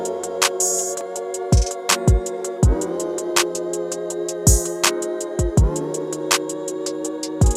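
A steady trap-style beat: crisp rapid hi-hats over a sustained melody, with deep sliding kicks hitting regularly and sitting smoothly in the mix.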